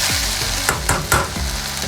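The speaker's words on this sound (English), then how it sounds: "we add the potatoes. And what we wanna do is mix it so that the potatoes get tenderized as well." Potatoes being mixed into cauliflower sizzling in a pan for an Indian vegan gobi aloo: a loud, steady sizzle broken by a few quick scraping stirs, close by, no speech.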